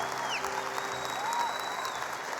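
Church congregation applauding, a dense steady patter of many hands clapping together, moderately close.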